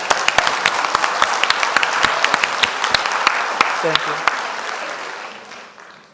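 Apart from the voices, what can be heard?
audience applause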